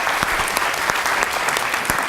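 A brief, loud burst of audience applause for a speaker, dense clapping sustained throughout the short stretch.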